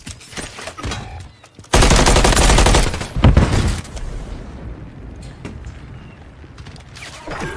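Gunfire in a shooter video game: loud, dense bursts of rapid automatic fire erupt partway through and keep rattling, with scattered single shots and mechanical clicks before and after.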